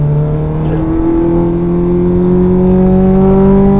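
Race car on the track at Mondello, its engine holding a steady loud drone with a slowly rising pitch as power comes back on, running continuously with no voices.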